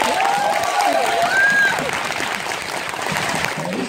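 An audience at a talk concert in Gunsan applauds steadily throughout, with crowd voices and a few whistles or shouts rising over the clapping.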